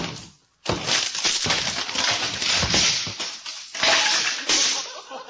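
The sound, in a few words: sound effect of something being broken up and demolished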